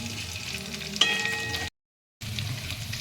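Chopped green beans and green chillies frying in a pan for a vegetable tehari, a steady close sizzle with a sharp clink as they go in, broken by a short silent gap before the frying resumes.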